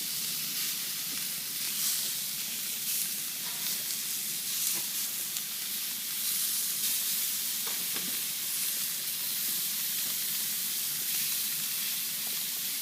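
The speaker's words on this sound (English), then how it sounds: "you can see the sizzling here" Ribs and tips sizzle on a grill, a continuous close hiss and crackle with small pops scattered throughout, heard alone without talk.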